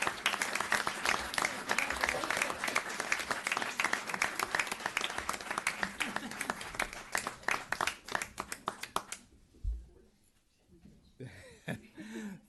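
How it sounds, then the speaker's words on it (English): Applause from the audience at a town board meeting, a dense round of clapping lasting about nine seconds, fading out, followed by a brief quiet and then a voice speaking. "How about a nice round of applause?"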